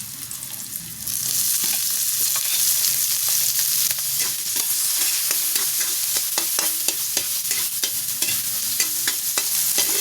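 Garlic, onions and tomatoes sautéing in a pan: a continuous close sizzle and hiss with frequent clicks and scrapes of a utensil stirring, steady and fairly loud for the whole stretch.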